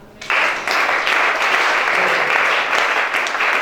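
A church congregation breaks into loud, sustained applause that starts abruptly and holds steady for several seconds, close and dense, with faint voices mixed in.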